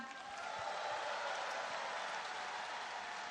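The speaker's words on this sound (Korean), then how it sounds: "큰 박수 부탁드립니다" An audience at a Democratic Party primary results event applauds in a steady, dense wash of clapping that holds evenly throughout at moderate loudness.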